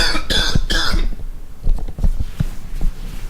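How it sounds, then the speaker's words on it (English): A short burst of coughing at the start, close and fairly loud, followed by quieter scattered clicks and low thuds, with a steady low hum underneath. "Had to bust out the little emphysema cough right there."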